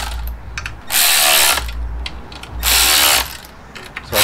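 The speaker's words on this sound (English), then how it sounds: "I'm not tightening them down with any force, I'm just taking up the slack of the teeth as you see them coming in." A ratchet tightens bolts during a Suzuki Samurai engine swap, its loud rapid clicking coming in two long bursts separated by quieter handling and scattered clicks, no voices.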